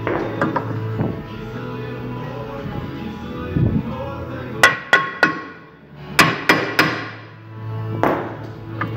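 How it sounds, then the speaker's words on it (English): Sharp metallic hammer blows ring out against a car's rear brake rotor in uneven bursts, several quick strikes clustered together, loud and close, over a low background hum. "can hit it with a hammer because you're changing the rotor"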